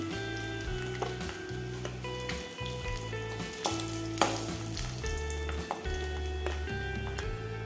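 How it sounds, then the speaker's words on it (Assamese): Eggs fry in hot oil with a continuous, fairly quiet sizzle, speckled with small pops and the occasional clink of a utensil. "এতিয়া মোৰ ডিমকেইটা ফ্ৰাই কৰা হৈয়ে গৈছে মই ডিমকেইটা কাঢ়ি ল'ম"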